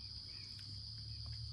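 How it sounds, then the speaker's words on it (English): Cicadas outdoors, a steady high-pitched buzzing drone held continuously at low level, with faint background ambience and no talking during the short stretch. "Cicadas. You can hear them."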